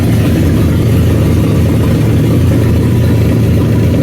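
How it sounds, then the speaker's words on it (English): 1962 Mercury Comet engine running and warming up after a rebuilt C4 transmission install, a loud steady low idle rumble close by with a continuous even drone and no talking. "All right, it's running now."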